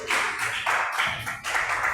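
A church congregation clapping together, rhythmic joyful claps in steady bursts, close and fairly loud with no talk.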